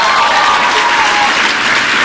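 Loud, dense applause from a large political conference audience at CPAC greeting a speech, sustained and even with no clear individual claps.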